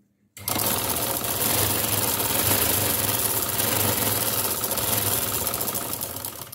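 Sewing machine running steadily at close range while stitching elastic into trousers, pulling the fabric taut, a continuous loud mechanical whir with a fast rhythmic needle chatter and no pauses.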